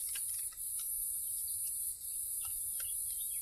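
Cicadas in a Luberon village in Provence shrill outdoors in a constant dense high buzz, loud and steady throughout with brief dips, and a few faint ticking chirps mixed in.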